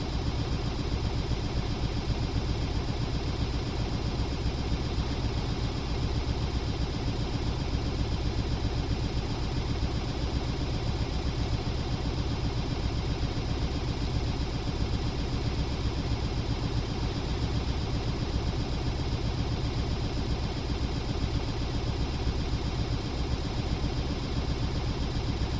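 A Stormworks vessel engine driving one large propeller runs alone at a steady, continuous drone with a low rumbling hum, unchanging in level throughout.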